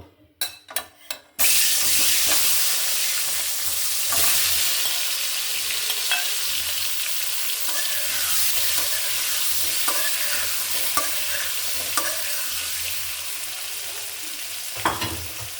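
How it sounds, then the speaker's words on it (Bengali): Potatoes frying in a pan, a few sharp clinks at the start, then a sudden loud, steady close sizzle with occasional stirring taps continuing for over ten seconds before cutting off near the end, no talking. "আলুটা একটু ভেজে নিব"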